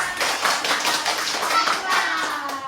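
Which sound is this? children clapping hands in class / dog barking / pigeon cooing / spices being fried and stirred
children clapping hands in class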